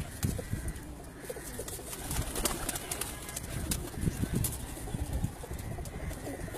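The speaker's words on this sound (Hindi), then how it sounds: "ये राय शौकत साहब से लाए हुए लाखे कबूतर हैं जी।" Lakha pigeons coo on a rooftop loft, a soft, repeated throaty cooing from several birds nearby. Faint chirps and light rustling mix in, with steady background noise and no talk.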